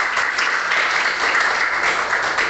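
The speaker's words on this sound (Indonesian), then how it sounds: "Tepuk tangan untuk kita semua." A roomful of students claps together in an Indonesian social studies classroom lesson, a thick, continuous patter of hands that stays level throughout, close and fairly loud.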